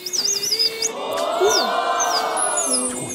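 A woman whistles an imitation of bird song on a variety show, with warbling, twittering chirps over studio crowd noise and murmuring voices.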